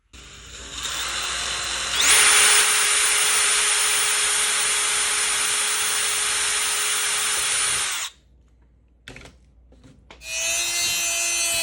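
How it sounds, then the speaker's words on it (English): A power drill runs at a steady high whine for about six seconds as it bores hinge holes in a scratch-built model airport security gate, then stops briefly and restarts, loud and close. "the only other holes I have to drill are through one of these for the hinge"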